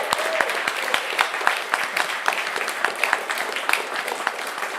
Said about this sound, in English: how about we get one more round of applause for Hannah Aldridge